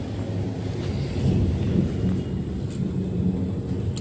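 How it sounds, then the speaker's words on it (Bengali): Storm sounds: a low, continuous rumble of thunder with rain and gusting wind buffeting the microphone, steady and moderately loud throughout. "বড় বড় ফোঁটায় পড়ছে বৃষ্টি এখন।"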